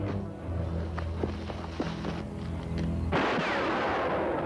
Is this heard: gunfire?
yes